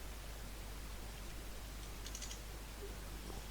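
Quiet tapping on a computer keyboard, a short cluster of keystrokes partway through over a steady hiss of background noise.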